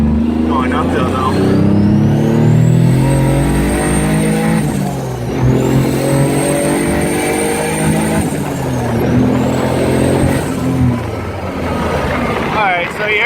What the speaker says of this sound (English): you heard I hit 3rd, a little bit of 4th, I mean all of 4th and a little bit of 5th